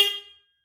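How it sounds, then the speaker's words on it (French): A Velocifero Mad 500 scooter fitted with a car-style horn gives one loud, close honk that cuts off and fades away in under half a second. "Et déjà, celui-ci, il fait énormément de bruit. C'est vraiment le klaxon de voiture."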